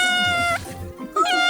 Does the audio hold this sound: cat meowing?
yes